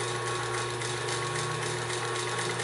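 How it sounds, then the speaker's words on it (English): A vintage Singer 78-3 industrial walking foot sewing machine, fitted with a newer 1750 RPM clutch motor, runs slowly with a steady, close mechanical hum and faint rhythmic needle ticking, with no speech. "you can run the machine pretty slow. That's just bringing it on slowly with my foot"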